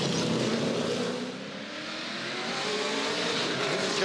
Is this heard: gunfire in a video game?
no